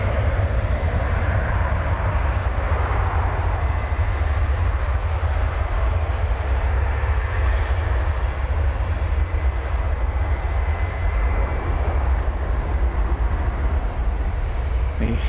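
Boeing 757 jet at DFW airport, a loud, steady engine roar that holds throughout as the aircraft passes, with a person talking over it.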